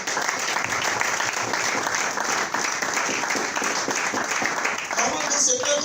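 Church congregation bursting into sustained applause during a sermon, dense clapping from a crowd filling the whole stretch at an even level, with voices mixed in.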